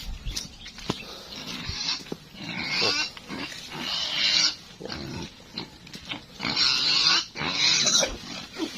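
Pig grunting close by in repeated bursts, some snorts and rustling between them, at a moderate volume.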